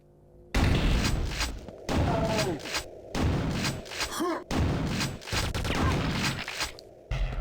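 Video game gunfire blasts at a crystal, loud bursts of repeated shots and booming impacts in several separated volleys with short pauses between, no voices.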